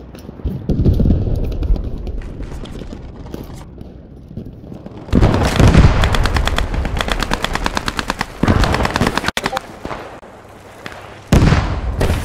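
Machine gun fire in the World War II shooter game Post Scriptum: long, loud bursts of rapid automatic shots with short pauses between volleys, close and continuous, with no talking over them.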